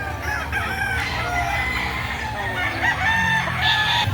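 An alimbuyugin rooster crowing at a Saturday chicken market in Lipa City, Batangas, loud and close over a busy background of other fowl clucking and a faint murmur.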